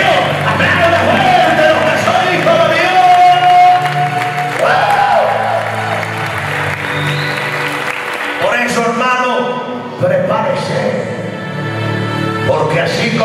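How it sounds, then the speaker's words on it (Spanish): A church congregation bursts into loud applause during a sermon, with clapping mixed with cheers, shouts and voices calling out over it, easing slightly midway before swelling again. "¡Aplausos de fuego!"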